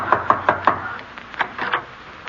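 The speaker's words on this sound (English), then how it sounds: "I'll knock." Knuckles rap on a wooden door in a quick set of four close, sharp knocks, followed by a softer, more muffled cluster of knocks after a short pause.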